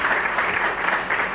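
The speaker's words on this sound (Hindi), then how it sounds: "इसमें थोड़ा तालियां जोर से" An audience at a textile research foundation day event bursts into applause, a brief, dense and steady wash of clapping filling the hall.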